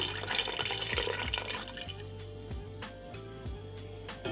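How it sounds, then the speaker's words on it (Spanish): Milk pours into a pot of cooking rice pudding on medium-low heat, a close gurgling stream for about a second and a half that gives way to a soft simmering bubble with faint clinks. "Le vamos a ir agregando la leche"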